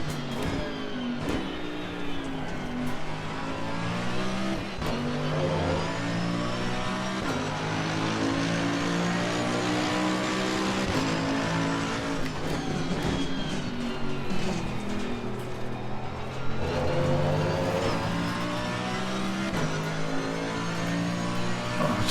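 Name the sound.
race car engine revving in Assetto Corsa Competizione video game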